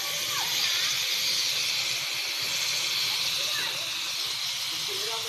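Chicken pieces sizzle and hiss steadily in a hot pan while being sautéed for Filipino ginataang kalabasa, a loud continuous frying sizzle.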